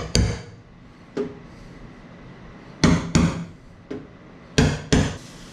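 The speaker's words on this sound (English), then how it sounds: "we're going to use like an extension here and a hammer and just give it a slight tap" Sharp, sparse hammer taps ring out, some single and some in quick pairs, with quiet pauses between strikes.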